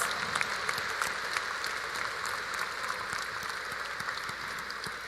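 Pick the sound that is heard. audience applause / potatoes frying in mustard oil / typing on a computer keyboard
audience applause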